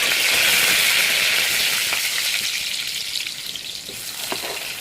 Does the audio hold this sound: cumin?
yes